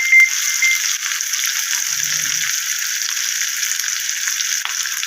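Onion with green and dried chillies frying in hot oil for an egg and cabbage dish, giving a steady, close hiss and crackle with a brief low stir partway through.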